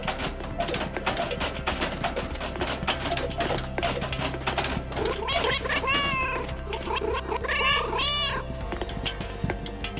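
A cartoon cat in the video game Schrodinger's Cat Burglar lets out a couple of drawn-out meows over busy, clicking game sounds and steady background music, the calls clear and close.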